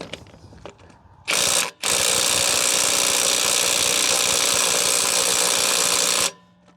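A Ridgid mid torque impact wrench hammers at a car lug nut in a loud, rapid rattling burst close up, briefly stopping and then restarting for several more seconds before cutting off.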